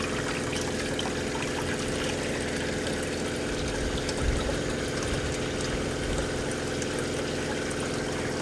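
Hot water running from a camper shower, a steady close splashing hiss with a faint low hum beneath and a brief louder splash midway, no voices.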